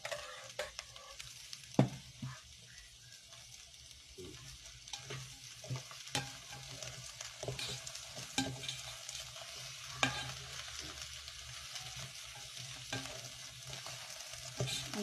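Vegetables sautéing in a pan for a pansit canton-style dish give a quiet, continuous sizzle with frequent light scrapes and taps of stirring throughout, heard alone without talk.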